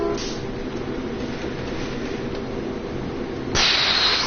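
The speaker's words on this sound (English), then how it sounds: "you're just not expecting a train to whiz right by you" A train in the Train Sim World 2020 video game rushes past a station platform, a steady rumbling roar with hissing rail noise that swells suddenly louder near the end.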